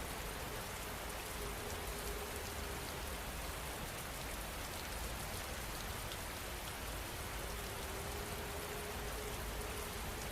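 Steady rain falls continuously, a dense even patter of drops on a surface, alone with no voices, holding at a constant moderate level from start to finish.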